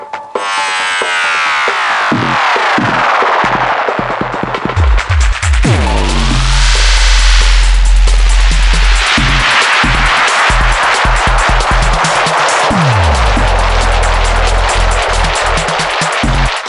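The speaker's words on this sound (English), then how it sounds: "the spiral is like a tape delay that's gone bananas" A Pioneer DJM-900 Nexus mixer's spiral tape-delay effect heavily processes music, with swirling, pitch-sweeping echoes rising and falling in loud, gnarly waves over thumping beats.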